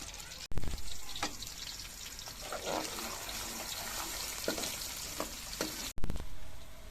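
Onions fry in hot ghee in a pan, a dense, continuous sizzle with scattered crackles and a couple of sharp clanks near the start and end, fairly quiet and close.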